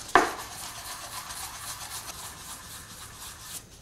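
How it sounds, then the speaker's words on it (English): A traditional Chinese stone name seal is rubbed flat on an abrasive surface, giving a soft, steady gritty scraping that starts with a slightly sharper stroke and continues quietly and evenly. "if the stone is not leveled well, you may sand a little further, so just make it level, very flat"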